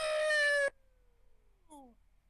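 A short cat meow sound effect, a loud tonal cry lasting under a second, followed by a quieter, briefer second meow after a pause.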